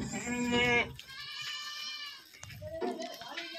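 Kathiyawadi goats from Junagadh bleat in loud, wavering cries, one long call followed by further bleats and scattered animal noises in a farm setting, with some voices in the background.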